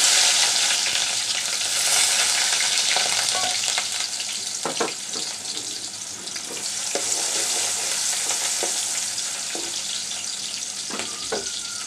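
Chopped garlic and onion fry in oil for a pui shak (Malabar spinach) stir-fry. A dense, steady sizzle runs throughout, with occasional soft clicks and scrapes from stirring.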